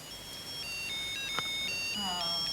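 A musical football mug plays a thin, tinkly electronic melody alone, bright and fairly quiet, stepping through short notes like a tiny music box.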